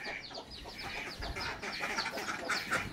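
Backyard chickens, just let out of their coop in the morning, keep up soft, overlapping clucks and chatter. The sound is quiet and somewhat distant, with no voices.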